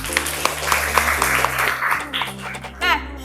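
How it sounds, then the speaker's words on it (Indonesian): Students in a history class clap together, a short burst of scattered applause mixed with a voice talking and a brief rise in noise at the end. "Terima kasih, tepuk tangan dulu."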